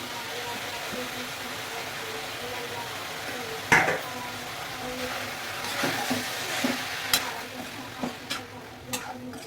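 Banana flower added to an Assamese fish curry simmering in a pot and stirred, with soft scraping, spoon clinks against the pot and faint bubbling, occasional sharper knocks, and a quiet voice speaking.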